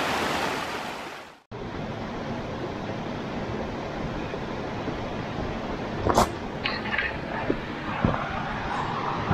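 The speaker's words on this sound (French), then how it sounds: "Un beau petit torrent" A small mountain torrent rushes beneath a footbridge on a lakeside trail in Alsace, a steady, close wash of flowing water that fills the whole clip, with a few faint clicks near the end.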